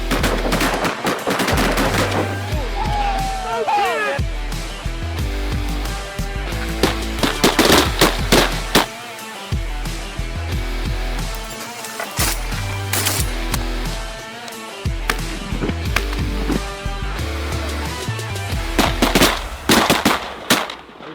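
Shotgun blasts during a mallard duck hunt, sharp booming reports scattered in quick succession, mixed under a loud music track with heavy bass.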